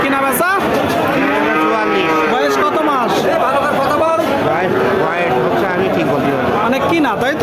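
Calves and cattle moo loudly and repeatedly at an open cattle market in Jessore's 7 Mile, the long, drawn-out calls overlapping amid a busy background of crowd chatter.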